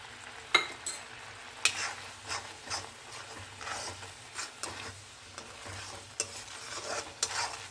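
A mixture thickening in a pan with a little ghee is stirred on low heat; soft, intermittent spoon scrapes and taps sound close over a faint, gentle sizzle.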